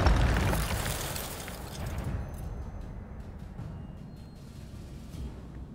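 A fire spell cast in Hogwarts Legacy during a fight in a large chamber, a loud burst of roaring flame that quickly fades into a lingering crackle.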